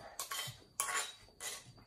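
A spoon clatters against dishes in three quick, faint metallic clinks spaced about half a second apart, close by and otherwise quiet.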